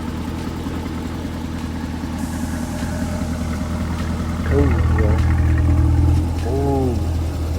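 A deep, rumbling Corvette C8 Stingray exhaust idles steadily close by, swelling briefly in a throaty rev before settling back, with a voice speaking briefly over it.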